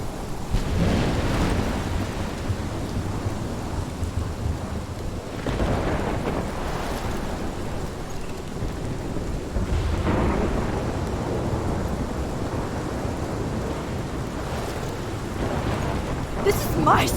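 A thunderstorm with rain in the video game Life is Strange: heavy rain hisses steadily while several deep rolls of thunder rumble in and swell, with a gusty wind-like roar throughout.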